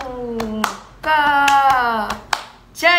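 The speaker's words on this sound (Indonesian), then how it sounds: "Udah bisa belum tepuk pramukanya?" Indonesian scout clapping pattern, tepuk pramuka, performed as sharp rhythmic hand claps in bursts, with voices singing or chanting along between and over the claps.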